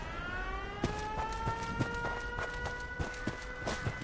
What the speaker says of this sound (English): That was the first base I've come across with a siren